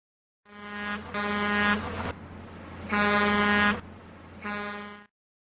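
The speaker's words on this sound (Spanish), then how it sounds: "camión" Three loud, close blasts of a truck's air horn, each a long toot with a short pause between, over a low engine rumble.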